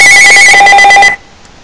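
A telephone rings loudly and close by, a bright repeating electronic ring that cuts off abruptly after about a second, leaving near silence.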